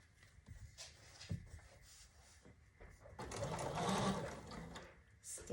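Sewing machine stitching quilt pieces for a star block, a soft buzzing run swelling in the second half after quieter handling sounds, faint and close.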